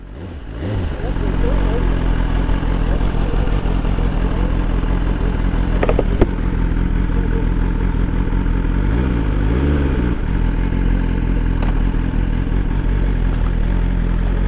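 A 2024 BMW S1000 RR sport motorcycle engine runs steadily and loudly up close, a deep continuous exhaust drone with a few brief clicks and a short rise in pitch partway through.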